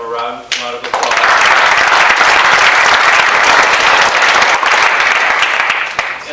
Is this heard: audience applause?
yes